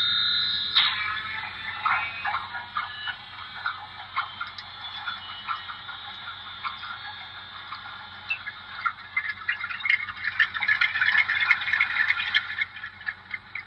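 An HO scale GE U23B model diesel locomotive runs with a thin, tinny electronic engine rumble and rattling chuff, steady and fairly faint throughout, growing busier and slightly louder toward the end.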